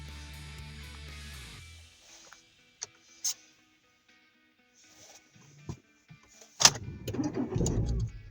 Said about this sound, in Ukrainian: Заведення двигуна на новому акумуляторі.